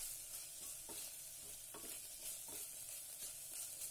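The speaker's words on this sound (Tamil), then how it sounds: "தக்காளி இன்னும் கொஞ்சம் வதங்கட்டும்." Tomatoes and vegetables sauté in a pan for zeeraga samba masala rice, a soft steady sizzle with a spoon scraping through in slow, regular stirring strokes, close and quiet, with no voices.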